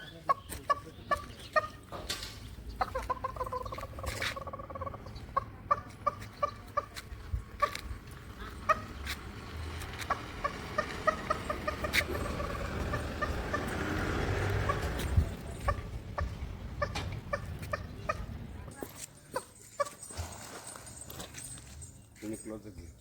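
A turkey answers a person's imitated turkey call outdoors near Tadoba, with repeated gobbling calls and clucks mixed with a voice mimicking the bird and speaking, plus occasional footsteps.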